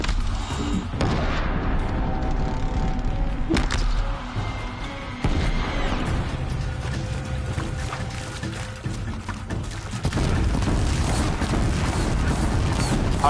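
Enemy gunfire aimed at the player in Horizon Zero Dawn, a dense, loud barrage of booms and sharp impacts with mechanical clatter that runs almost without a break, over a continuous low rumble.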